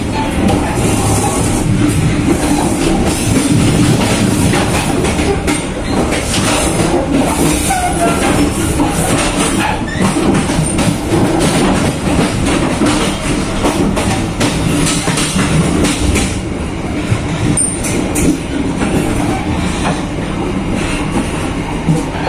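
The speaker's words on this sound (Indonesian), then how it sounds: "perjalanan saya bersama kereta api Cikuray persiapan masuk stasiun" Cikuray passenger train rolling along the rails toward Cikampek station, a loud continuous rumble of wheels and carriage noise heard from inside, steady throughout with faint clicks and no talk.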